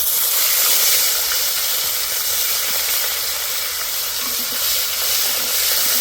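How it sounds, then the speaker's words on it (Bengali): Onion paste frying in hot oil with whole bay leaves, dried red chillies and fennel seeds, producing a loud, dense, unbroken sizzle and hiss close to the pan. "পেঁয়াজটা ভালো করে ভেজে নেব।"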